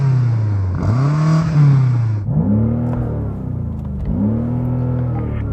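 The BMW M5 CS engine is revved up close, with three loud rising blips that each peak and fall back to a throaty idle, heard alone without talk.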